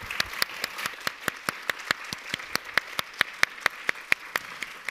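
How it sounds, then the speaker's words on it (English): An audience applauds at the close of a panel discussion during EU days in Lund, a steady run of sharp, fairly evenly spaced claps that sound like a few nearby hands rather than a large crowd. "A grand hand of applause."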